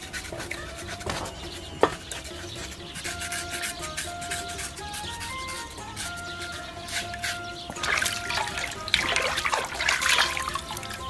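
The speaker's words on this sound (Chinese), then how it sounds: "炒好的五花肉刮洗干净" Fried pork belly being scraped and rinsed clean under running water, a steady trickle and splash with rubbing and scraping noises, busier and louder toward the end.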